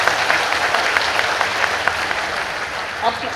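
An audience at a political speech claps steadily, a dense, loud patter of many hands close by that holds for several seconds and then thins out near the end.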